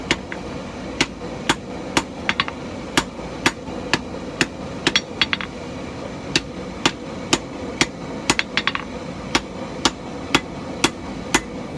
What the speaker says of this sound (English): start forging out the tail.